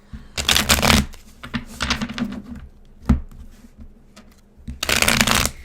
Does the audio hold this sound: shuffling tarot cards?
yes